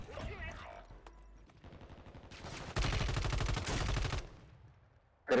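Video game gunfire in Warzone 3 erupts in loud, dense bursts of rapid automatic shots, broken by short gaps, with a final close blast at the end.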